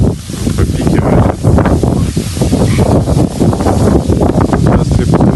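Strong wind buffets the microphone beside a lake during carp fishing, a loud, roaring, gusting rumble with rustling and water noise, steady throughout with no speech.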